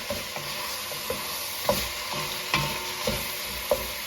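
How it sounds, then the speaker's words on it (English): Italian sausage meat with onions and peppers being stirred in a pan over medium heat for chili: a steady sizzle under repeated scraping spoon strokes, several sharper knocks against the pan, no talk. "We can kind of mix in the onions and the peppers now."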